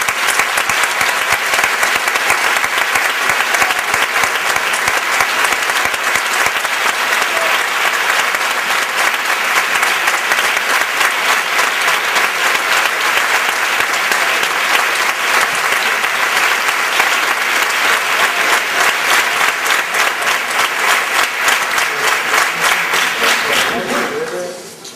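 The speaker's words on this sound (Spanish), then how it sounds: "Un fuerte aplauso para ellos." Theatre audience applauding band members in a long, dense burst of clapping that stays loud and unbroken for about twenty-four seconds before fading at the end.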